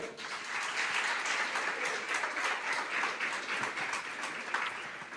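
A church congregation applauds, a thick, continuous wash of many hands clapping that stays even and fairly close throughout.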